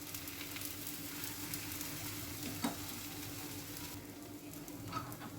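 A vegetable pancake cheela cooks in oil on a pan with a soft, steady sizzle at low volume. A faint click lands near the middle, and a mild hum runs beneath the frying.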